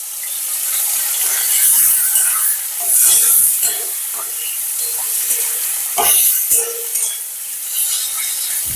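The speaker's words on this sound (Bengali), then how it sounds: "দিয়ে এটাকে আমি ভেজে নেব।" Pepper-seasoned prawns frying in a pan for a Bengali prawn curry, giving a steady, close sizzle with bursts of stirring and scraping in the middle and near the end.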